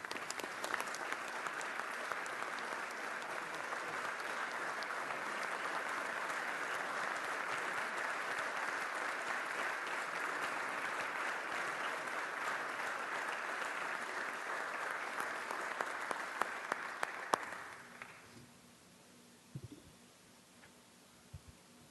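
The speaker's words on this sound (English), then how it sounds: "So if we could give them one last round of applause." Sustained applause in the New York State Assembly chamber honoring West Point visitors, a broad, even wash of many hands clapping for about seventeen seconds before stopping abruptly into quiet room noise and a few thumps.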